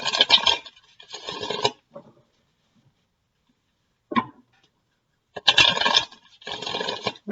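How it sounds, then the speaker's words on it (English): Tarot cards shuffled by hand in bursts of papery riffling and scraping, several shuffles separated by short pauses and one quick tap, close and fairly quiet. "One more shuffle and then I'll cut."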